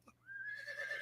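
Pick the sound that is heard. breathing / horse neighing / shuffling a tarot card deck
horse neighing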